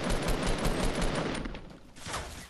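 Gunfire in Fortnite, a dense rapid stream of shots that rattles continuously, eases off briefly, then picks up again, loud and close with no talking.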